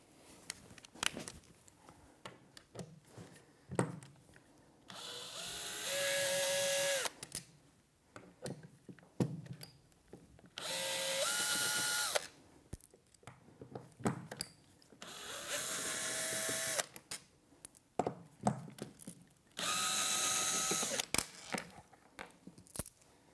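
A power drill backs bolts out of a Contrology reformer carriage, sounding in four separate whirring bursts of a few seconds each, with handling clicks and rustles in the pauses between them.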